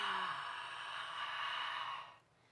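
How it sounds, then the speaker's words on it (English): A long open-mouth "ha" breath, like fogging a mirror a few inches away, steady and breathy with a hushed rushing tone, close and quiet, fading out near the end. "imagine that you're fogging up a mirror that's a few inches in front of your mouth"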